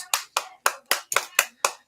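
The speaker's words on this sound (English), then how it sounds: "Give him a round of applause." A few people clapping in a home pub quiz setting, about eight sharp, evenly spaced claps close to the microphone, with no other sound.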